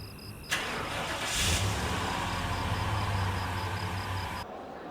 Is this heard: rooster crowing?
no